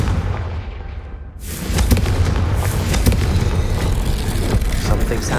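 A Confringo spell blast in Hogwarts Legacy lands as a loud booming explosion after a brief quieter lead-in, followed by a sustained rumble with crackling bursts of fiery debris.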